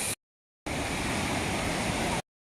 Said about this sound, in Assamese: ইমান ডাঙৰ চিমলা ফল দেখা পাই থাকিব আপোনালোকে